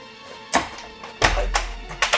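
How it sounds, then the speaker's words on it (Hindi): A faulty house door that needs repair swings open with a few dull thunks and soft knocks spread over two seconds, close by and moderately loud, with no talk. "मैं वही सोच रहा था दरवाज़ा खुल कैसे गया"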